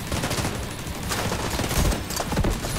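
Rapid, loud bursts of mortar fire and blasts in the shooter game The Division 2, closely spaced thumps and crackling impacts running continuously without speech.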